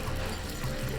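Sauce sizzles on a hot plate at a Royal Host family restaurant in Japan, a brief, loud, steady hiss heard up close.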